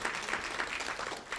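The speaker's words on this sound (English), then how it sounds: "So give yourselves a round of applause for that" A room of non-profit summit attendees in Brooklyn bursts into brief, dense applause, a continuous burst of clapping from many hands heard at close range.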